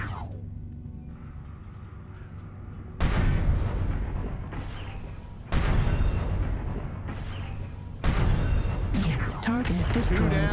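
Heavy weapon fire rips into a battle mech's remaining leg in MechWarrior Online, coming as three loud, booming bursts that each hit hard and roll out into rumbling, crackling debris, all close and dense.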